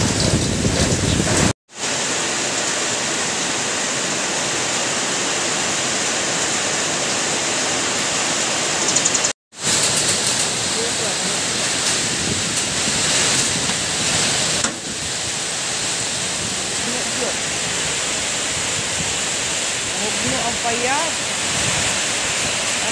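A typhoon lashes down with heavy rain and strong wind, a loud, continuous roar of downpour and gusts filling the whole stretch, broken only by two brief cuts, with faint voices now and then.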